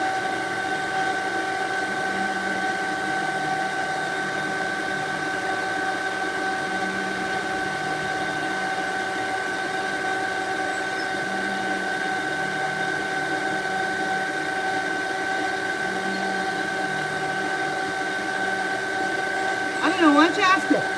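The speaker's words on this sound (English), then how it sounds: "You talking about the dryer box?" A pet dryer box for cat baths runs with a steady, unchanging electric hum and whir, close and continuous, with a faint rattle near the end.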